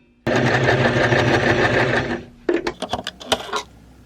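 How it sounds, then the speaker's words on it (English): A sewing machine stitching elastic bands together into one loop, running in a steady close whir for about two seconds, then stopping into a series of irregular clicks and knocks. "I'm actually going to sew the elastics together, so then it's one big band."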